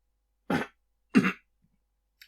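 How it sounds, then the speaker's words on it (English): Two short, separate coughs or throat-clearings about half a second apart, fairly close and moderately loud, with near silence between them. "starts coughing"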